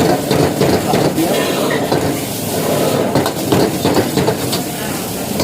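Continuous stirring and scraping of food with soy sauce in a hot pan with a steady sizzle, close and fairly loud, with faint clatter of utensils.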